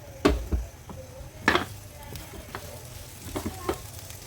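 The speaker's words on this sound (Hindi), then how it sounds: "इसको ज़रा सा भून लेते हैं" Spiced keema paste frying in a few drops of oil, with a faint steady sizzle under a few sharp clinks and scrapes of a spoon against the pan.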